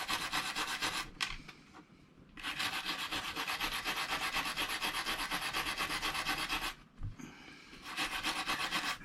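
The rusted part of a vintage Olympic ES 1M spinning reel is being smoothed down. Close, steady rasping strokes run in long passes, with two brief pauses between them.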